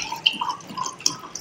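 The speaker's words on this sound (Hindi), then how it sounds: "तो ये हम इसके अंदर ठंडा पानी डालेंगे" Ice-cold water is poured into chilled, frozen cream for making ghee, giving a short run of close, light splashing and dripping sounds with no talking.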